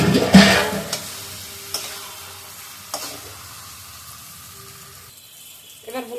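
Fish slide into hot oil in a home kitchen and set off a loud, sudden sizzle that fades into a softer, steady hiss, with a few clinks of stirring along the way.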